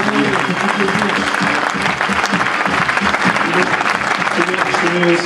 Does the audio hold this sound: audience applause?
yes